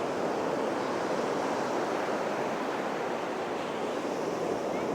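Sea waves at Pakala beach wash in as a continuous, loud rushing roar, with wind noise blending into the steady surf and no distinct breaks between swells.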